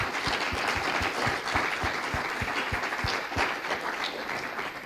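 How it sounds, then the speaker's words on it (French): An audience applauding the speakers at the end of a talk on the Internet, social networks and environmental pollution: dense, sustained clapping from a crowd, steady and fairly loud throughout. "Je vous invite à applaudir nos intervenants."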